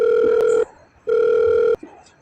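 A telephone ringback tone plays during an outgoing call, two loud, steady electronic rings with a short silent gap between them.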